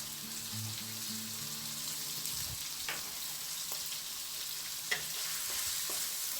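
Ground pork frying in a pan for pancit palabok, giving a soft, steady sizzle with a few faint clicks and taps throughout.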